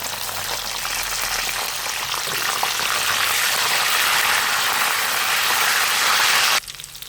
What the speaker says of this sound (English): So that's starting to sizzle.